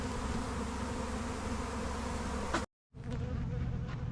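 Dense, steady buzzing of many honeybees working almond orchard hives, loud and close, interrupted by a brief near-silent gap before the swarm-like drone resumes.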